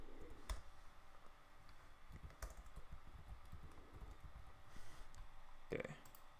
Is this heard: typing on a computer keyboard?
yes